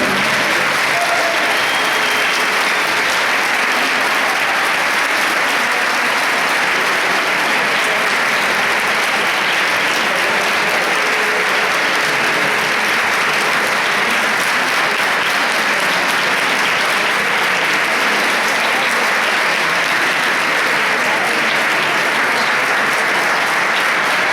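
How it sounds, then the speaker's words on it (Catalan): Loud, sustained applause from a crowd fills a band's musician festival, welcoming a new percussion member as his father hands over the instrument; the clapping stays dense and even throughout. "Un fort aplaudiment a ell."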